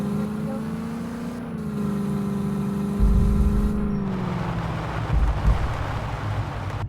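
A Land Rover Defender engine drones while off-roading, a steady close hum that shifts pitch slightly, with a heavier low rumble breaking in around the middle and again near the end.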